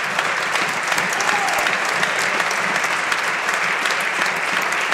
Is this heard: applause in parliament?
yes